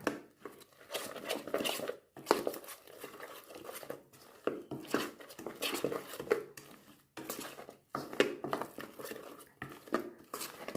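Cauliflower fry masala being stirred in a pan, with a spoon scraping and clattering against the metal in irregular bursts and pauses, moderately close and fairly quiet, with no voices.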